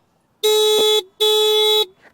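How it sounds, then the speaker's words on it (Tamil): Two loud, sustained beeps from a Hero Xoom 110 cc scooter horn, each about half a second, close by and separated by a short gap. "ஹாரன் சவுண்ட் கேட்போமா?"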